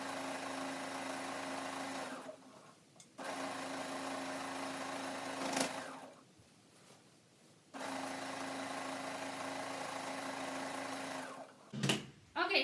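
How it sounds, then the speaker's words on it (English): A sewing machine stitches steadily around the edge of a fitted crib sheet, running in long even stretches with brief pauses between them and a short clatter near the end. "So we're going to sew all the way around the sheet till we get back to the other side of the pin."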